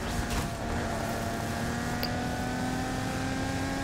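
A car's engine in the racing video game Need for Speed Heat, a continuous steady drone with a sustained tonal hum and road noise, held at an even level without talk.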